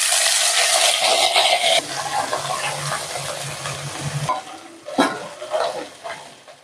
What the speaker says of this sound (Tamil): இப்போ புதினா, மல்லி, கருவேப்பிலை எல்லாம் சேர்த்து வதக்கிடலாம்.